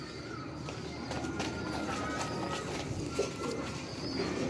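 Sialkoti pigeons cooing softly amid steady background noise, a pair of birds giving low, continuous coos with a faint clatter through the clip.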